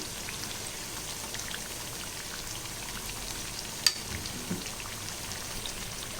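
Taro root vadai frying in hot oil after being turned on both sides, a steady soft crackling sizzle with faint rain-like spatter, one brief sharp pop midway, no voices.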